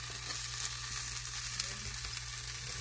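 Birria taco frying in a pan, a steady broadband sizzle and crackle holding evenly throughout, close and fairly quiet, with no talk.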